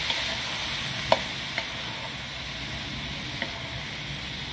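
Tomatoes go into a hot frying pan for pinakbet, cooked by an elderly woman, with a steady soft sizzle and occasional light clicks of stirring, heard close and alone.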